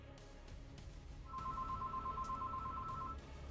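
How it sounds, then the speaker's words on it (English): A telephone rings in a quiet room during a streamed Scorched Earth game session, a steady electronic warbling tone lasting under two seconds, faint and somewhat distant with no speech. "Oh, phone's ringing."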